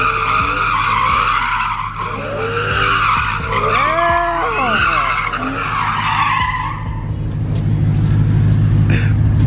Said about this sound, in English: She's about to do a donut.